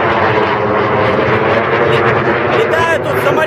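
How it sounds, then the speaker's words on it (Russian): Airplanes flying low over a stadium produce a loud, steady engine roar that fills the whole clip and swells slightly near the end, with a voice faintly under the noise. "Летают тут самолеты, прям над стадионом шумят."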